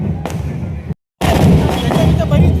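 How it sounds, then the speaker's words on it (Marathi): Firecrackers burst at a crowded palanquin festival (Chhabina) in Chiplun, Konkan: loud, dense crackling and booming pops close by, briefly cut to silence before another thick barrage rolls on over crowd noise. "एवढे फटाके उडवत आहेत ना बाप रे बाप"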